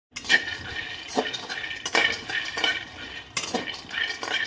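A metal kadai (wok) being handled in a home kitchen: close, irregular clanks, knocks and scrapes of metal against metal over about four seconds.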